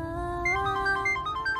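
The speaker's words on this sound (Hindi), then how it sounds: "अक्षय, अम्मा दिशा का फोन है।" Mobile phone ringtone playing a steady electronic melody at moderate volume, a sustained tone that steps up into a repeating pattern of short notes, with no talk over it.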